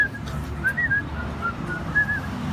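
A person whistles a light, wavering tune in short phrases, the thin notes rising and falling over a steady low background hum.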